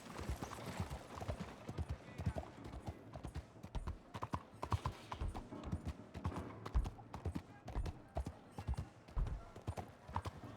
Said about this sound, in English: It's so strange to be on the back of a horse like that.